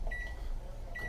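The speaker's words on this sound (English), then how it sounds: "Okay, it's in the microwave." A kitchen microwave oven runs with a steady low hum while heating a dirty, soaked strip of wood for bending a canoe rub rail, with faint high tones near the start and end.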